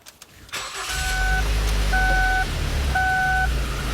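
A car engine cranks and catches, then settles into a steady low rumble with an ignition-system fault simulated, while an electronic chime beeps three times at even intervals over it.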